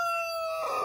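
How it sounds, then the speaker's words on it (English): A backyard rooster kept in a sandy dust-bathing coop gives a brief, clear, tonal crow, loud and near, cut short within a second. "Yep, that's our rooster."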